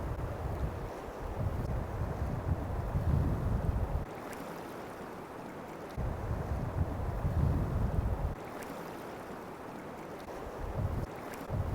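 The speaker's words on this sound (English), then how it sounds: "So I've got this downstream wind." Downstream wind blows over an icy river during winter spey casting, a steady rushing roar with gusty swells and faint crackles, no voices.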